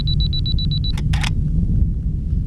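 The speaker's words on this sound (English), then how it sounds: "I'm going to focus on the dunes at the front and get a shot right there" A camera in the Kelso Dunes gives a quick run of high focus-confirmation beeps, then two crisp shutter clicks close by over a steady low wind rumble.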